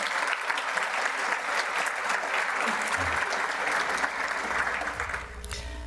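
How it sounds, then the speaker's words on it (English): Steady audience applause at a county government State of the Region address fills nearly the whole stretch, a sustained wash of clapping that thins and fades slightly near the end. "So if you could give them a round of applause"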